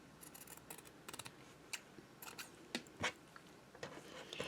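Scissors snip paper patterns into smaller sizes in quiet, irregular cuts, with faint rustling of the paper between strokes in a calm crafting space.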